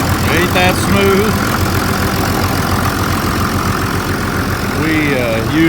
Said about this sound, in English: We used this tractor to load our hay in the field this year.